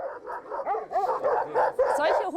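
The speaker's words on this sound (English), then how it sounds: "The shepherds protect their flocks with dogs like these." Shepherds' aggressive flock guard dogs bark and yip in a rapid, overlapping burst, close and loud, with some whining mixed in.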